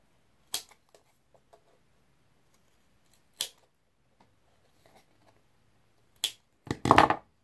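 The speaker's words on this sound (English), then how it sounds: "I'm going to cut a little more off." Scissors cutting off more material while building a small arbor with a bench seat. A few sharp, separate snips come with long pauses between them, and a quick pair of cuts follows near the end, all close by in quiet surroundings.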